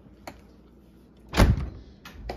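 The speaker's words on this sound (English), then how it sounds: "I'm going to close the door." A Whirlpool dishwasher door is pushed shut in a kitchen. A faint click comes first, then one solid, close thud midway, and a light latch tap follows. No one speaks.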